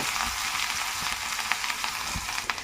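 Mustard seeds and crushed pepper fry in hot oil in a pan, giving a continuous close sizzle with scattered small pops and crackles.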